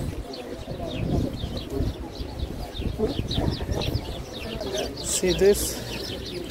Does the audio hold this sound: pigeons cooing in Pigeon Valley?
yes